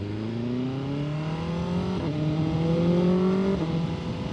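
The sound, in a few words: motorcycle accelerating away from a green light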